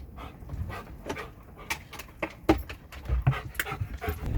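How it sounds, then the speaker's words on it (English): A dog approaches outside a mountain farmhouse in Serra da Estrela, Portugal, panting in quick close bursts mixed with snuffling and shuffling movement. "here comes the dog."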